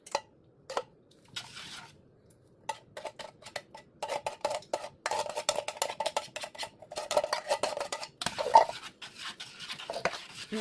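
Plum cherry jam being stirred in a Saladmaster MP5 pot: a spoon scrapes and clicks against the metal sides in irregular bursts, close and fairly quiet, with brief pauses between strokes.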